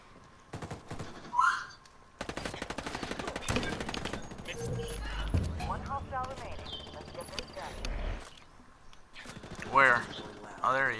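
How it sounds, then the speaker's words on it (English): Sniper rifle shots ring out in Ghost Recon Wildlands, a tactical shooter played in PvP, as sharp separated cracks mixed with other gunfire and game noise, with a voice talking over parts of it. "Sniped the one in the calf and spun around and sniped the other one."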